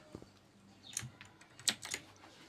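Typing on a Rampage Snug K14 mechanical keyboard with blue switches, a handful of sharp clicky keystrokes, sparse and uneven, close but quiet in a calm room.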